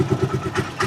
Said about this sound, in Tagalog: yung andar ng ating makina.